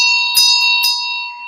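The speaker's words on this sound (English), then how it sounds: "Let me give you a little bell on my end here." A small hand bell is struck twice, giving two bright metallic strikes with a shimmering ring that carries on steadily between and after them, near and loud.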